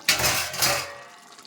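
Water is poured into a metal pot of chicken curry, a splashing rush with a second surge midway that fades out, with clinking metal in the mix.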